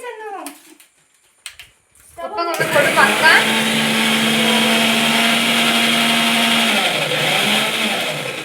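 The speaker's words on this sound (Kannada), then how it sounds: "ಈಗ ನೀರ್ ಹಾಕಿ ಕಡಿಯುದು ಮಿಕ್ಸಿಯಲ್ಲಿ" A kitchen mixie grinding sugar, lemon and water into sherbet starts with a loud whir after brief voices and clatter, then holds a steady, close roar to the end.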